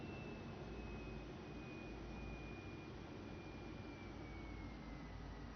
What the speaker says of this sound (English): So we'll throttle the engines down here.